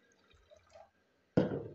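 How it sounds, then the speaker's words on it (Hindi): One cup of cold water is poured into a pot of dissolved jelly on the stove while making a strawberry sago drink, a short splashing gush after a quiet moment. "तो अभी यहाँ पे हम डालेंगे 1 कप ठंडा पानी"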